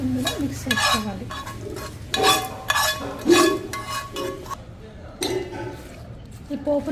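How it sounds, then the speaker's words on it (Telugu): Tempering being stirred into tamarind chutney in a bowl, with scraping and clinking of a spoon in bursts alongside a faint sizzle, while a person talks over it. "ఇప్పుడు ఈ పోపుని మనం ఇందులో మిక్స్ చేసుకోవాలి."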